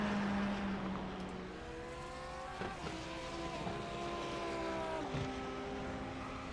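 A GT3 race car roars past on the front straightaway at Catalunya, its engine tone rising and falling through upshifts as it sweeps by, loud and fairly close with a constant background of other cars.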